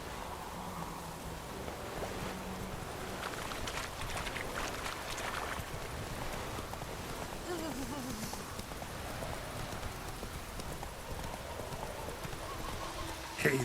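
Roach, the horse in The Witcher 3, gallops in a quick, steady clip-clop of hooves over a soft wind-like background, fairly quiet and continuous.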